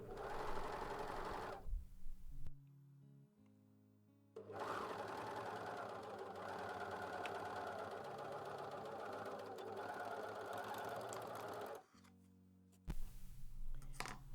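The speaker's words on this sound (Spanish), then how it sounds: "Ahora voy a coser un poco para enseñarte cómo debe verse el dibujo de la costura con overlock" An overlock serger stitches thin, light poplin fabric in loud, steady mechanical runs. A short burst comes first, then a long continuous stretch, with quiet gaps and a final brief burst.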